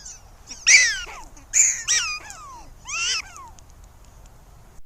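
Three loud, squeaky, rising-then-falling prairie dog jump yips in quick succession, each with a sharp bright onset, spaced about a second apart over quiet low rumble.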